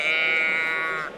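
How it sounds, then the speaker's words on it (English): A handheld sheep noise toy gives one sustained, nasal bleat lasting about a second, loud and close, tapering off at the end. "so I can make sheep noises."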